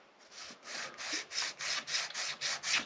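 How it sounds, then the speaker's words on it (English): A wooden piece for an Artesania Latina Stage Coach 1848 model is sanded to an angle, with steady rhythmic rasping strokes, about a dozen close back-and-forth passes in quick succession. "Every piece is going to get an angle sanded on it"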